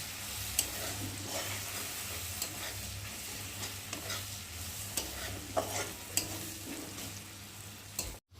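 Garlic paste frying in a pan until browned, a soft continuous sizzle with occasional stirring scrapes and light clicks of a utensil against the pan, fairly quiet and close, with no talking.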